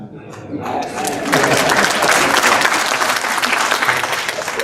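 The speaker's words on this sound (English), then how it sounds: "I thought I'd get some applause when I said that" Audience applause at a public meeting about the King Alfred Leisure Centre in Brighton and Hove, a loud, dense burst of many hands clapping that swells after a second and holds steady.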